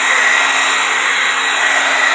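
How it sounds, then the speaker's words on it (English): A handheld blow dryer runs steadily at close range, a loud, even whirring hiss with a constant motor whine and no pauses, heard alone without talk. "I turned on the blow dryer to blow dry my baby"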